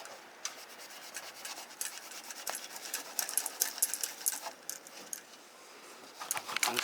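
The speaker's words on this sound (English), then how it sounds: "You gotta rub it. I use this every time on my piping and stuff, and it works." Polish being rubbed by hand onto the engine piping of a K20-swapped Honda Civic, a steady close scratchy rubbing with quick repeated strokes that swell and fade over several seconds, without talk.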